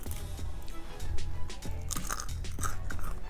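A crunchy barbecue-flavored KangKong King water spinach snack is chewed close up, giving repeated sharp crunches and crackles in an irregular biting rhythm, with no talk over it.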